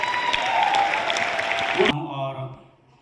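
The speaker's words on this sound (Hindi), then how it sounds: "मैं चाहूंगा एक बार जोरदार तालियों के साथ उनको यहाँ पर बुलाया जाए" An audience at a company's 19th anniversary event applauds loudly to welcome a guest on his birthday. The dense clapping, mixed with voices, cuts off abruptly after about two seconds and leaves a faint lingering tone.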